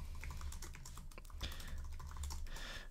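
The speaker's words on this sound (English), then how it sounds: "We'll type in our password." Someone types a password on a computer keyboard, a steady run of quick, soft key clicks close up, with no pauses, under a low background hum.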